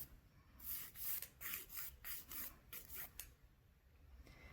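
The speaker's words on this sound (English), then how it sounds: "If you keep the file flat on a nail and you work over the entire nail, it'll cover more surface." A nail file scraping gel polish off a fingernail in quick back-and-forth strokes, about a dozen close, faint rasping passes in a row.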